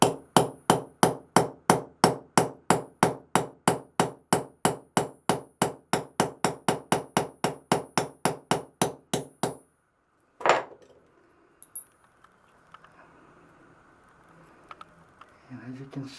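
A hammer strikes the spine of a D2 steel knife, 62 HRC, to drive it through a 16d nail. About thirty sharp, evenly spaced metallic blows ring out in quick rhythm, then one final hit and quiet handling noises.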